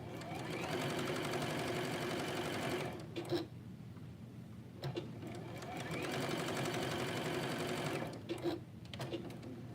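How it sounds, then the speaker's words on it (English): A sewing machine runs at close range stitching the shoulder and side seams of an easy top, in two long bursts of rapid, even clatter separated by brief pauses. "sew up these shoulder seams and the side seams."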